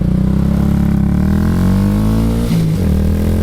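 A 2026 Honda Grom motorcycle with 5,000 miles cruising, its engine drone loud and close and steady throughout, pitch easing slightly, with a brief dip and shift around a gear change near the end.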